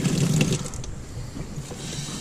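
A spot tail porgy fillet is rinsed under running water, giving a close, steady splashing rush that softens slightly after the first half second.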